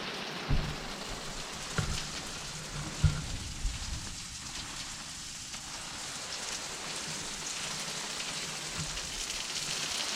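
Steady rain from a storm at Grant Bay hisses all around, with a few louder drips and thuds landing nearby now and then.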